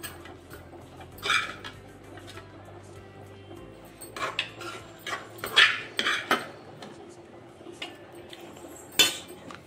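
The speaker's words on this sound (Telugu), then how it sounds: "ఇందాక మనం క్యాబేజీ పెట్టుకున్నాం కదా, ఆ గిన్నెలోకి తీసేస్తున్నానండి" Cabbage and toor dal curry being transferred into a serving bowl, with scattered metal utensil clinks and scraping taps against the pot at irregular intervals, fairly close and moderately quiet.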